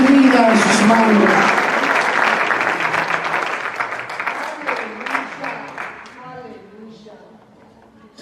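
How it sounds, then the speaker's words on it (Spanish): A church congregation applauds during a sermon, loud sustained clapping that gradually thins and fades over several seconds, with a voice speaking through it. "Démosle un aplauso al Rey"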